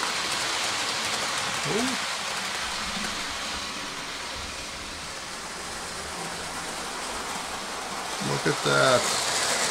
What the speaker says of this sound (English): As light as it is, it can still haul five coaches